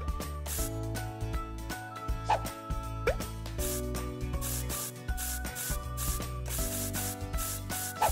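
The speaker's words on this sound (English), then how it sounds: "And now some serious rubbing." Rubbing effect in a children's cleaning video game, repeated scrubbing and squeaky rubbing sounds over cheerful looping game music, steady and fairly loud.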